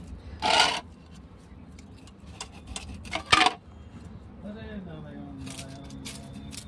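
Tail piece of a fresh rohu fish is scaled with a blade: two loud, sharp scraping rasps stand out, with softer intermittent scratches and a few scrapes trailing at the end.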